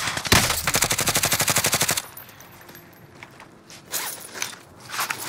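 Rapid automatic gunfire in Call of Duty: Modern Warfare, a loud sustained burst of evenly spaced shots lasting under two seconds, then quieter scattered battlefield noise and distant shots.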